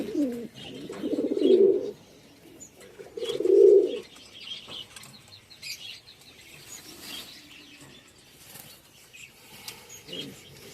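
Madras pigeons in a village loft give two loud, low cooing bouts close by, then quieter chirps and faint rustling that may be wing flaps fill the rest.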